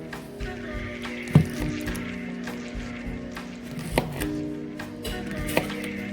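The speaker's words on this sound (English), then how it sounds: "Cut them so that they're about 3/4 of an inch, half an inch." A knife chops fresh okra into chunks on a cutting board, giving a few distinct thuds spaced a second or more apart. A steady background hum runs underneath.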